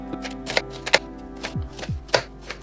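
A knife chops an onion finely on a board, giving a string of crisp, irregular taps close up over a steady low hum.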